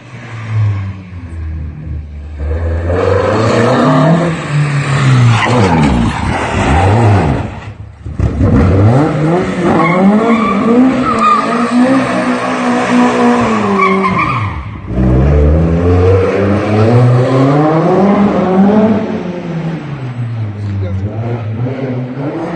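A 1964 Mk1 Mini skids with its tyres squealing loudly in long wavering screeches, the engine revving beneath, sustained over about twenty seconds with brief dips between slides.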